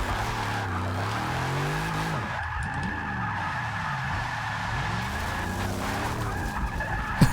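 A Dodge Charger Hellcat slides sideways in the Forza 6 racing game, tyres squealing continuously with wavering pitch over a roaring engine, loud and sustained throughout.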